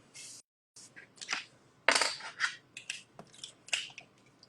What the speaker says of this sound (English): Don't you just love the sound of clicking bricks?